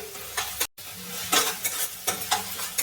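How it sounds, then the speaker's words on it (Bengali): Cumin paste frying in hot oil for a potato stew with greens, a steady close sizzle broken by a brief silence, with repeated scraping strokes of a spoon stirring through the pan. "এবার আমি এর মধ্যে দিয়ে দিলাম জিরে বাটা। এটাকে দিয়ে আমি নাড়াচাড়া করতে থাকবো।"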